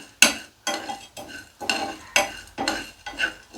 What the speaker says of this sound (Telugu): నెయ్యి కానీ ఆయిల్ కానీ ఏమొద్దండి, ఉట్టిగానే వేయించుకుందాం